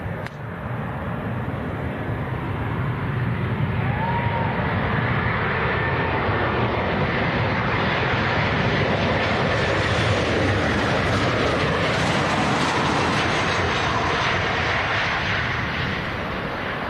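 An airplane lands at Leeds Bradford Airport, its engines a loud, steady roar that holds for the whole stretch with no voices over it.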